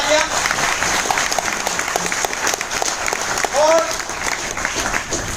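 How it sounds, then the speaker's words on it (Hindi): Loud, dense clapping from a large audience at a crowded stage event in Gujarat, sustained throughout with occasional cheers rising through it. "जोरदार तालियां"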